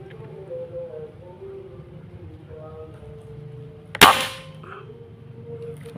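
One sharp, close crack of an air rifle shot during an accuracy test, with a brief ringing tail afterward, over a steady background hum and faint talk.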